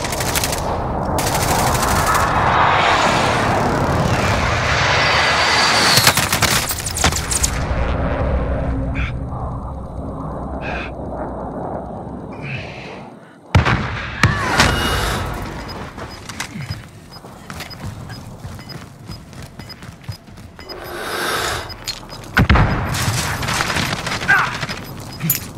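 Video game gunfire from Call of Duty Modern Warfare, with loud rapid machine gun bursts and scattered shots under a dense battle wash, briefly dropping out midway before resuming with mechanical clicks and further volleys.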